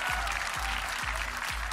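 A television music show audience claps for a veteran Indonesian singer, a steady wash of applause laid over a booming, regular bass thump from the studio music.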